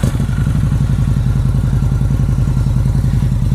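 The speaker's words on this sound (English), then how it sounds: "get this bike started and see just how it sounds" A 2016 Harley-Davidson Night Rod motorcycle engine runs at a steady idle with a loud, close, deep pulsing rumble and fast regular thumps, and no talk over it.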